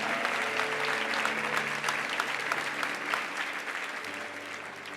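A church congregation claps for God during a sermon, sustained and dense, moderately loud and tapering slightly toward the end, with a low sustained organ or keyboard tone underneath.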